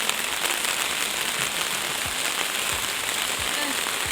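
Steady rain falls in wet weather near a gate, pattering densely and evenly on surfaces. The hiss is constant and fairly close, and no clear voices rise above it.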